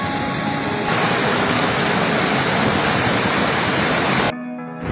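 Water flowing at Gorano Dam near the Thar coal area, a loud, steady broadband rush like a waterfall, close and continuous before cutting off abruptly near the end.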